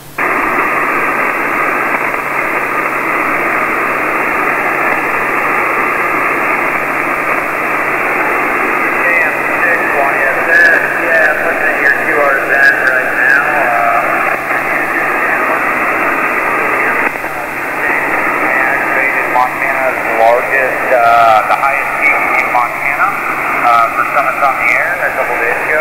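An amateur radio contact's voice comes in over the air, narrow-band and buried in steady static hiss, with faint chirps and fluctuating noise throughout.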